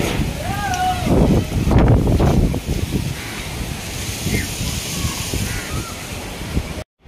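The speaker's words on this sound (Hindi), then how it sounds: "ये जो मेरे सामने पेड़ है काफी ज्यादा हिल रहा है, इतने तेज हवा है।" Strong gusting wind roars steadily during a dust storm in Patna while a tree shakes nearby, a dense broadband rush with louder buffeting bursts early on and a voice speaking over it.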